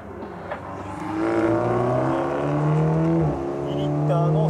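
A 2-liter Toyota Supra SZR race car on the SUGO circuit, engine rising through a loud, close acceleration, dipping briefly at a gear change, then climbing again with a strong whine.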